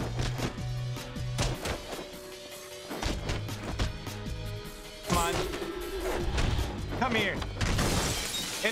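Glass shattering in The Bourne Conspiracy: crashing, smashing impacts amid game action, with a bright burst of breaking glass partway through. A voice talks over it.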